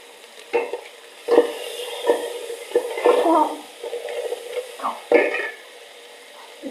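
Spices for tempering moong dal crackle and sizzle in hot oil with several sharp bursts and stirring sounds, fairly close, no talking.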